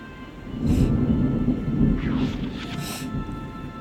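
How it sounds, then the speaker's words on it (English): A thunderstorm rumbles outside during heavy rain, heard as a low, muffled rolling boom that swells and fades, distant and indoors-sounding, with no talking. "Crazy rain and thunderstorm going on outside."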